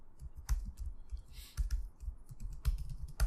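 Someone types code on a computer keyboard with quick bursts of close, crisp key clicks and a few heavier thumps, in a quiet room with no talk.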